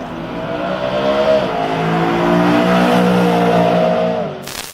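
A naturally aspirated BMW M3 E92 GTS engine revs hard and steadily, its harmonic tone climbing and holding loud and near for several seconds before cutting off abruptly near the end, with no talking.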